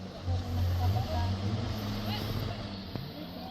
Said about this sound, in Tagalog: Look at the jet ski.